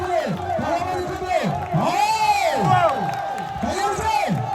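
A crowd at a tug of war match in Edappuzha, Kannur, Kerala, cheers and whoops in rising and falling waves of shouting, loud and fairly close, mixed with an excited voice calling over the noise.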